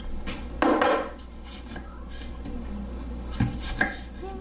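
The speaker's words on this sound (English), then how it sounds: "I need to cut up my Dicing the peppers too." A large knife dices small peppers on a cutting board, giving close, irregular chopping thuds and board knocks with a few clinks of utensils, and no voices.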